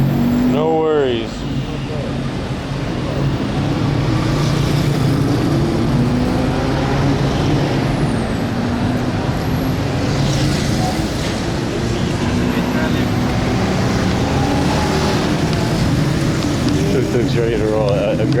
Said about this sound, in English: Tuk-tuk's ready to roll, aggressively ready.